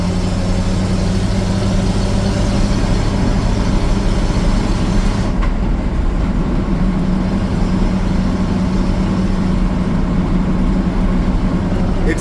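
A 1958 Dodge D200 4x4 truck's engine drones steadily while cruising, a low, even rumble with a constant hum and no speech over it.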